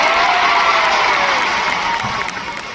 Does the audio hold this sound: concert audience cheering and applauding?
yes